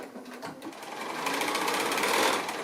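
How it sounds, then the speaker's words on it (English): A sewing machine runs a straight line of topstitching on fabric near a fold. Its rapid needle chatter is close and steady, building slightly in pace through the short run with no talk. "I'm going to do 2 rows of top stitching, one close to the fold there and one about 1/4 inch away"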